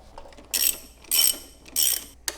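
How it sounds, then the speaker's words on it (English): Three bursts of a ratchet wrench clicking as it loosens the axle nut on a KLR 650 motorcycle, each burst lasting about half a second, with a short final click at the end. The sound is close and clear, and no one speaks. "We're just going to loosen up the axle nut because I can get at the speedo cable while it's jacked up."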